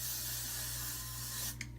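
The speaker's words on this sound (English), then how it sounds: "And then I'm going to spray my freeze blast spray" Freeze blast hair spray sprayed from a can, one continuous close hiss lasting over a second before cutting off with a small click, quiet overall.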